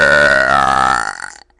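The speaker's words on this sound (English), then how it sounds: "Every video I burp in, I put it on YouTube" A long, loud belch on New Year's Day rolls out steadily for over a second, then breaks up and cuts off, with a brief faint noise just after.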